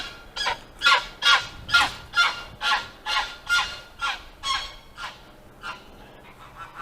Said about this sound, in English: The goose doesn't like the ultralights flying over the house.